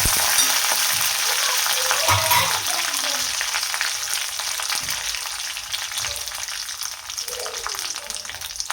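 Curry leaves sizzle and crackle in hot tempering oil for a coconut green chutney, a loud continuous frying hiss with bursts of spitting and some stirring, no talk over it.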